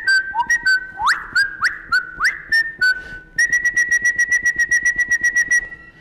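A person whistles clearly and loudly: a few rising, birdlike slides, then a quick run of short repeated notes.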